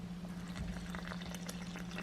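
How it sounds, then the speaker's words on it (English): A yeast, water and honey mixture is poured into the center of flour for homemade bread, making a faint, steady liquid pouring sound in a quiet kitchen. "We're going to take our yeast and water and honey mixture and just pour it into the"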